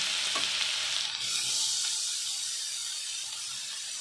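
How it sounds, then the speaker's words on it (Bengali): Grated carrot frying in melted ghee, a steady close sizzle with stirring scrapes through the pan, continuous and fairly loud with no talking. "ঘি গলে একদম তেলে পরিণত হয়েছে। এবার যাবে গাজর, গ্রেট করে রাখা গাজর।"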